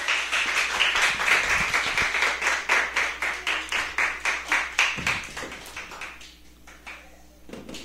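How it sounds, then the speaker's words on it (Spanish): Church congregation clapping for the Lord in a strong, rhythmic unison beat, steady repeated claps that gradually soften and thin out toward the end. "¿Pueden darle una fuerte ofrenda de palmas al Señor?"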